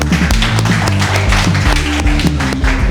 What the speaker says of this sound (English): Let's clap for Piyush.